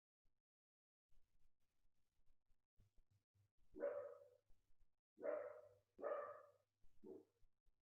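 A dog indoors gives four separate barks, the last one shorter and softer, with faint thumps and rustling between them and no speech.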